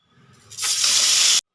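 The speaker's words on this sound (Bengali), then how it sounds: "তেল গরম হয়ে গেছে এবার আমি মাছগুলো দিয়ে দেব মাছগুলো ভেজে নেব" Fish slid into hot oil sets off a sudden loud, bright sizzling hiss that starts abruptly, holds steady for about a second and cuts off sharply.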